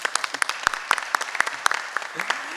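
An audience at a university public consultation claps in a quick, uneven burst of sharp hand claps, fairly close and continuous, with no voices.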